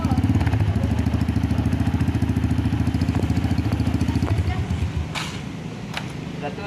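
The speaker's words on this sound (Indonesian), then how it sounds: "Pertama, kita hidupin dulu motornya." A motorcycle engine idles close by with a rapid, even putter and mechanical clatter, gradually easing slightly in level near the end.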